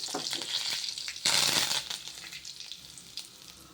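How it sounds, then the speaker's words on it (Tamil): Curry leaves dropped into hot oil already holding mustard seeds and urad dal, giving a steady close sizzle with a sharp louder burst of spitting and crackling as the leaves hit, then settling back to a lighter fry. "எண்ணெய் நல்லா காய்ஞ்சிட்டுங்க கடுகு உளுத்து பருப்பு போட்டுருக்கேன் இப்பொழுது கருவேப்பிலை போடுறேன்"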